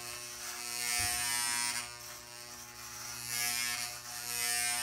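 Electric hair clippers buzz steadily while cutting short hair at home, with tapering comb attachments, a close continuous motor hum that swells and dips slightly as the blades pass through the hair, with no voices.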